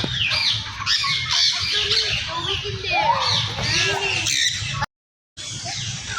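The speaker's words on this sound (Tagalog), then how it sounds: "Ganda ng mga ibon" A dense chorus of many birds squawking and screeching close by in an aviary, continuous and loud, with people's voices mixed in underneath.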